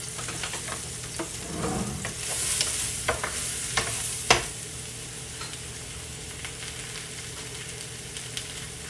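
Sautéing in olive oil in a pan on lowered heat, with a steady close sizzle and occasional scraping stirs and sharper clicks of a utensil against the pan, no voices over it.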